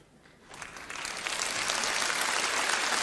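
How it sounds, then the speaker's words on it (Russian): Audience at a comedy show breaking into applause, clapping that starts sparse and quickly builds to a full, steady ovation. "Мужчины всегда в этом месте почему-то аплодируют."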